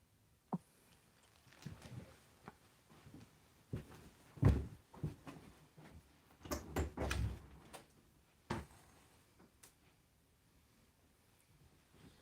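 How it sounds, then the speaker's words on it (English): A door is opened for Elijah during a home Passover Seder, a series of close knocks, thumps and handle rattles in uneven bursts, loudest in the middle, then fading into quiet. "We traditionally open a door in the home to allow Elijah to make appearance."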